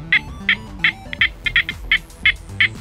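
A Nokta Makro Anfibio Multi metal detector sounds over a piece of aluminium foil with a steady run of about nine short, bright beeps at an even quick pace, over a low background murmur.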